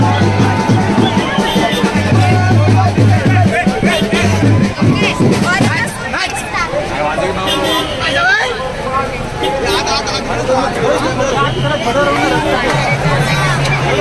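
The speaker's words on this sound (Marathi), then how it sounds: "तर ह्या ठिकाणी मुंबईमध्ये मरीन लाईनच्या इथे किती गर्दी झाली आहे तुम्ही बघू शकता" A huge crowd fills Marine Lines road in Mumbai at the Indian cricket team's T20 World Cup victory parade, a dense, continuous roar of babble and chatter with someone talking close over it throughout.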